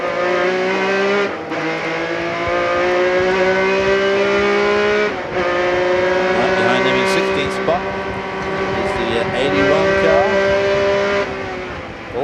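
Identical Porsche 911 GT3R race cars battling at the Grand-Am 2000 Paul Revere 250, their engines screaming loudly as they pass, with shifts and tyre squeal, while a commentator talks over the noise.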